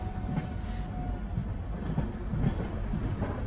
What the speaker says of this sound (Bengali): রাত 1টা, ট্রেন উলুবেড়িয়া ছাড়ল